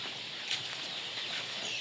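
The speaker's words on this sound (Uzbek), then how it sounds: "Mana jo'jalarimiz suvsa yotibdi hozir." Faint, high chirping of many chicks peeping together in a continuous chatter, heard at low volume with no talking.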